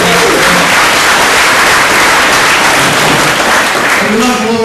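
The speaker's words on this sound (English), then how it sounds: "Everybody here deserves a round of applause for the great work we did in 2010" Loud, dense applause from a crowd at a Hillsborough Republican Committee gathering, a continuous wash of clapping filling the room, with faint traces of voices underneath.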